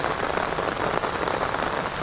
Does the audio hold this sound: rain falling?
yes